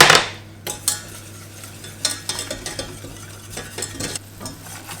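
Flour being stirred into a cooking mixture with cutlery scraping a pan, a run of soft irregular scrapes and taps over a steady faint sizzle, close and moderately loud.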